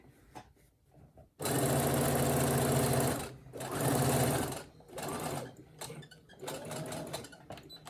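A Brother SE1900 sewing machine stitches a fabric pouch, running in loud, close bursts of rapid mechanical whirring that stop and start again, with short back-stitching runs between them.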